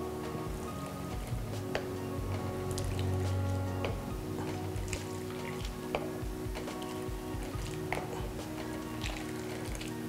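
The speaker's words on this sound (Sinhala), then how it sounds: "කිරි ටික කැඩෙන්නේ නැති වෙන්න අපි මේක උතුරවා ගන්නවා." Tomato soup with added milk heats in a pot, giving a steady bubbling simmer with scattered small pops and drips throughout, fairly quiet and continuous with no voices.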